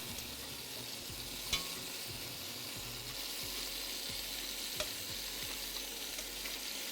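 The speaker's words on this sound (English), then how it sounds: "it is important to not have your pot too high of a heat while we're searing" Beef chunks sear in a pot over moderate heat, a constant, fairly quiet sizzle and crackle with a couple of brief metallic clicks.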